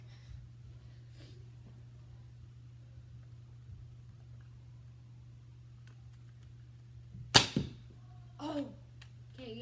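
A Nerf blaster fires once with a sharp, close snap-and-thump, a brief rattle after it, then a short rustle over a steady low electrical hum in an otherwise quiet room.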